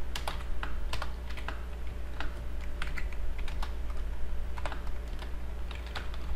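Keys clatter on a computer keyboard in quick, uneven bursts of close, crisp clicks over a steady low hum, with no talking.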